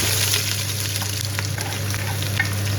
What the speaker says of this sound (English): Once the oil is hot, throw in those onions.